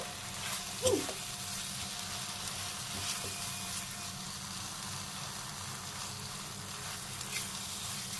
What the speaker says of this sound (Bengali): মশলাটাকে ভালো করে দেখো আমি এটার সঙ্গে ভালো করে কষাবো যতক্ষণ না তেল ছেড়ে আসে